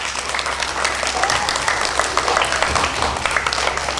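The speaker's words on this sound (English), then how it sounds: "Give yourselves a big hand clap." Schoolchildren clap their hands together at school after a lesson, a busy uneven patter of small hands, fairly close and continuous, with a low background hum beneath.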